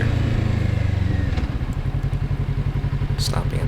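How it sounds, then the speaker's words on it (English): A 2024 Kawasaki Z650RS motorcycle engine revs hard and close, its throbbing exhaust pulsing steadily throughout with a slight dip in pitch midway, no voices over it. "Let's give it some more revs again."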